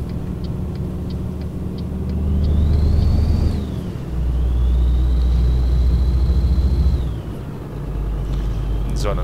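Scania truck engine in Scania Truck Driving Simulator, hauling a very long trailer: a steady low diesel rumble that swells twice as the revs climb and fall, with a faint whine riding above and brief ticks early on.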